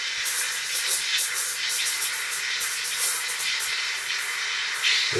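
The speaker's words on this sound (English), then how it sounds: "we're going to go ahead and steam the milk" A DeLonghi EC155 espresso machine steam wand steams milk in a pitcher, producing a continuous close hiss with sputtering, irregular air-sucking bursts throughout and no talking.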